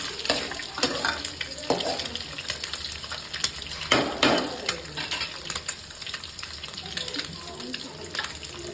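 Eggs and noodles frying in a pan for chicken noodles, a steady close sizzle with scraping stirring sounds and occasional louder clatters throughout.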